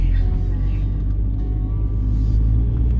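A car moves through Edinburgh city traffic near the old town, its steady low engine rumble continuous and fairly close, with faint street sounds mixed in.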